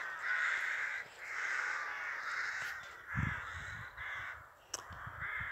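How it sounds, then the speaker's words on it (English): Ravens caw repeatedly in a roosting group, harsh overlapping calls in steady bursts, fairly distant with a few lower croaks and a sharp single call near the end. "All coming home to roost. Wow. I love them. Ravens, they're my favourite crow family."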